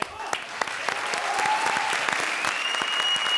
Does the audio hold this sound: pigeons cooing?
no